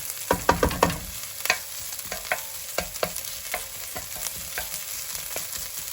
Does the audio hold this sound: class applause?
no